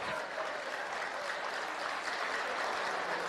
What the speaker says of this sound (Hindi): ताली किसके लिए बजा रहे हैं?